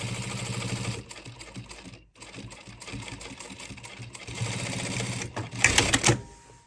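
A sewing machine runs in bursts of rapid mechanical stitching, sewing a line of stitches through thick denim on a shopper bag, with short pauses and a louder final run, close and without talk.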